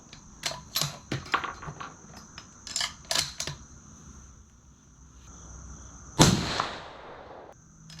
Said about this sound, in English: Those two shots are full 2 inches lower than the last group.